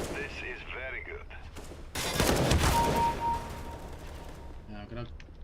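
Gunfire in a Counter-Strike: Global Offensive match between Vitality and Into the Breach, a loud burst of rapid shots erupting midway over ambient game sound, with brief quieter clicks and a commentator's voice around it.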